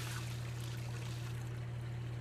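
Cold water streams steadily from the jet of a pre-2018 ICEPOD cold plunge, a continuous close hiss of flow over a constant low pump hum, with no talking.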